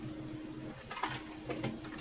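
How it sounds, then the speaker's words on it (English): A home printer prints a sheet, giving soft mechanical whirring with a couple of brief louder feed clunks over a low steady hum, heard alone without talk. "My printer will print this sheet."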